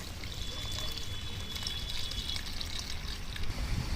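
Water pouring steadily into a curry of chickpeas and paneer in a pan while cooking, a continuous close trickle and splash without a break.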